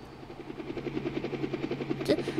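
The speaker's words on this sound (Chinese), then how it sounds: "直升机" A helicopter in the video game LiEat III thumps with a fast, even rotor beat, moderately loud and close, building slightly before a sharp burst near the end.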